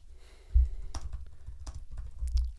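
Computer keyboard typing while a new presentation slide is set up: a run of crisp, close clicks in uneven bursts, with a couple of louder key strikes standing out.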